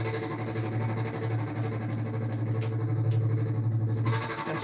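Electric guitar through a tremolo pedal with the echo switched off plays a dense, steady passage with a pulsing, wavering tone and a dry, abrupt finish, loud and close with no speech.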